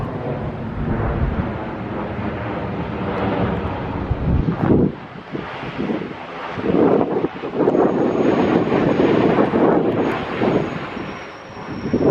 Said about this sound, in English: Haven't been able to see where these planes are coming from.